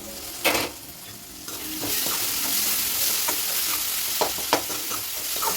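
Tomatoes sizzle steadily in hot oil while being stirred, with sharp spoon-against-pan scrapes standing out near the start and later on, for a pumpkin bhaji. No one speaks.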